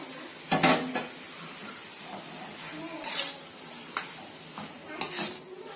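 Potatoes are tipped into a pan for bread rolls and stirred, giving four or five sharp scraping, clattering bursts over a faint steady hiss. No one speaks.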